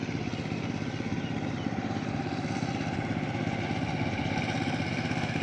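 A Siefing 12 horsepower engine power tiller runs steadily while cultivating a paddy field, its continuous close chugging drone holding an even rhythm throughout with no talk.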